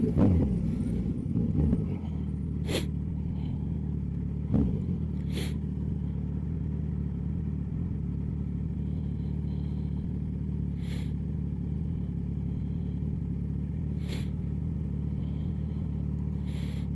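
A motorcycle ridden through a town centre, its engine running steadily close by with a low rumble and a few brief revs, continuous throughout with no talk.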